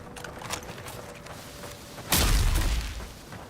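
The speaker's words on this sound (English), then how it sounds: "I like the gun sound effects." A gun in the fantasy game Avowed fires one heavy, booming shot with a sharp crack that rings out and fades, following quieter clanks and movement sounds.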